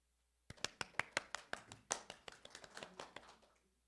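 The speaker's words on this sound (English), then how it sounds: "Please welcome Professor Choi with a big applause." A small audience at an international public diplomacy conference claps to welcome a professor, a brief sparse round of hand claps that starts sharply and thins out over a few seconds, fairly faint.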